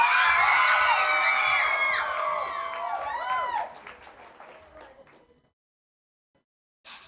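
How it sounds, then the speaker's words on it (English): An audience at a cosplay contest performance cheers and whoops loudly. The crowd noise fades over a few seconds into near silence. "Get ready to cheer them on"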